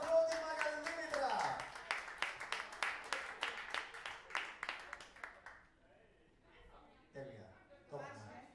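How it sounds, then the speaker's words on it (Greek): Karaoke audience claps in a quick, fairly quiet rhythmic burst for about five seconds after a voice speaks, then the clapping fades and brief talk follows. "ένα μεγάλο χειροκρότημα για την Δήμητρα"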